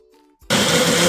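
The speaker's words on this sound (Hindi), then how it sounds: "इसको हम लोग जार का ढक्कन लगा करके और मिक्सी को चला लेते हैं" After a faint hum, a kitchen mixer grinder with a lidded jar suddenly starts and runs with a loud, steady whirring roar.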